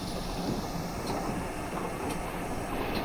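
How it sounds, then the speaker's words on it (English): A GWR 56xx steam locomotive in Train Simulator Classic moves off with a steady, continuous rumble of running gear on rails and a few faint metallic ticks, with no voices. "Short toot of the whistle, and let's move her"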